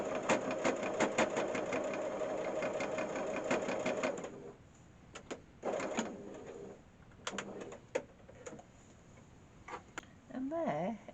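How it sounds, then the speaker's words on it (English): A domestic sewing machine stitches a fabric peg bag, running in a steady rapid clunking burst, then stopping and restarting in short spurts, close and fairly quiet, with bird cooing faintly in the background. "You can hear the sewing machine clunking."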